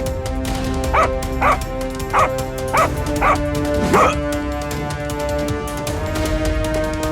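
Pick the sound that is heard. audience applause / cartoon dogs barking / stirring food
cartoon dogs barking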